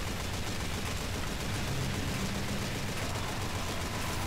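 Dense gunfire in the video game Team Fortress 2, a steady wall of rapid shots that stays fairly even and moderately loud throughout.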